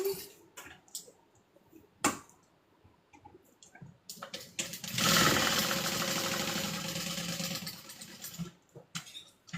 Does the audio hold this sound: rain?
no